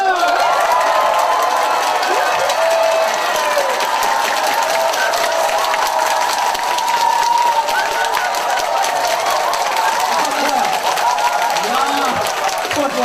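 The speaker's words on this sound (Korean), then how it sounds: "정말 환호성의 박수!" An audience at a cancer seminar bursts into loud, dense clapping mixed with cheering and shouted voices, sustained at a steady, energetic level for about thirteen seconds.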